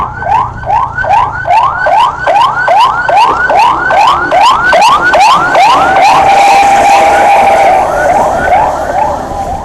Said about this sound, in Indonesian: Ambulan apa itu?